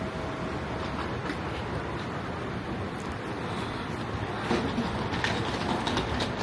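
A train runs on rails at a station in Osaka, Japan, giving a continuous broadband rumble with faint rhythmic clatter and wind-like hiss, steady throughout with a slight swell near the end.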